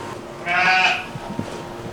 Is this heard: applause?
no